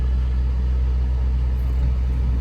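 A 20 Hz bass tone plays through the audio system of a Rogue car, with the door shut and the engine held around 2,000 RPM. It is a loud, unbroken deep rumble that stays steady throughout.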